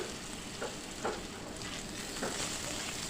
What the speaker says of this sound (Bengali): তো উল্টে পাল্টে আমি আলুগুলোকে একদম লাল করে ভেজে নিচ্ছি।